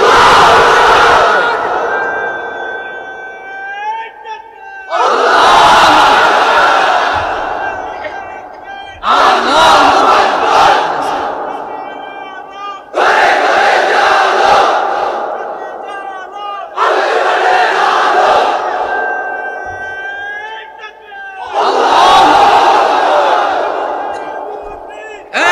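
A large crowd of unmarried men at a religious gathering roars a takbir chant in unison, six loud sustained bursts of massed voices with short pauses between them.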